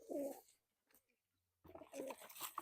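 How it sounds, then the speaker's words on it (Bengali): Soft cooing of Giribaz pigeons, a Benares-line breed kept at a seller's loft, in two short bursts of low murmuring calls separated by a near-silent gap, faint and close. "পায়রাগুলো খুব সুন্দর কোয়ালিটির পায়রা দেখুন"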